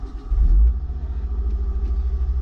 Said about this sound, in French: et voilà, la voiture démarre.